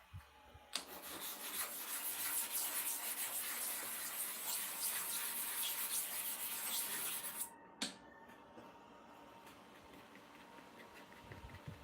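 A hair clipper blade in a two-surface blade holder is rubbed steadily on a sharpening stone, a continuous gritty scraping for about seven seconds that stops with a knock, followed by faint scattered taps.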